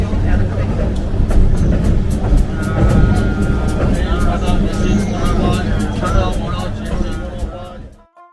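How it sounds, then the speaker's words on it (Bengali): A local train pulls out of Sealdah station, a loud, continuous rumble with a faint rhythmic clatter of wheels, and a busy platform murmur underneath until it cuts off near the end. "7:42 ট্রেন ছেড়ে দিয়েছে।"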